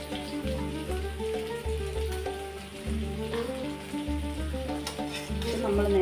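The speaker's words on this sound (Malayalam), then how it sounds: "ചീസും കൂടെ ഇട്ട് ഒന്നുകൂടി ഇത് മിക്സ് ചെയ്തെടുക്കണം" Chicken stirred in a pan with cheese, kasuri methi and oregano for Turkish chicken, giving a steady close scraping and soft sizzle that runs continuously under background music.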